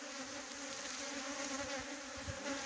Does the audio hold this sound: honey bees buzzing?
yes